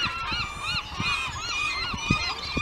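Geese honking repeatedly along a tide line, several birds close by calling in a busy, overlapping chorus.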